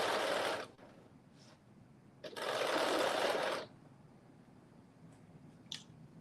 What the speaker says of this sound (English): We're stitching up the sides of the skirt.